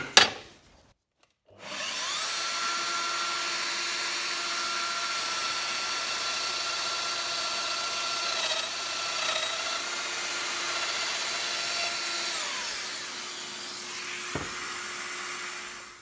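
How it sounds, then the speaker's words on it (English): Festool Domino XL joiner plunge-cutting a 60 mm deep mortise in wood: a short thump, then a steady loud motor whine with cutter hum for about twelve seconds, winding down with a brief knock near the end. "I'm going to run a Domino through here and let's see how that looks"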